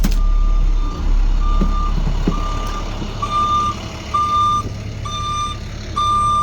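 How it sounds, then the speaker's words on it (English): A 2009 IC CE300 school bus sounds its reverse alarm, a steady series of evenly spaced electronic beeps over a low idling engine rumble, fairly close. "Reverse lights work, reverse alarm works."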